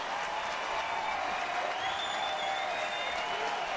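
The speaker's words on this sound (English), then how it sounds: "here's Adam Jones giving a big round of applause" Steady crowd applause fills a baseball stadium during a Yankees–Cubs game, a dense even wash of clapping that holds at a constant level throughout with no talk over it.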